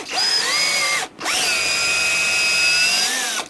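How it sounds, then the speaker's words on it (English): A power drill spins a hex shaft to shave out and enlarge a hole in a 1/6-scale Sherman tank idler part, giving a loud, steady whine in two bursts split by a short pause. "chuck the hex shaft up on a drill and use the shaft to enlarge the hole on this"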